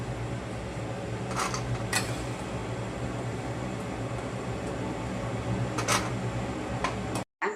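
Food fries in oil on low gas, a steady, even hiss with a few faint clinks of a utensil against the pan.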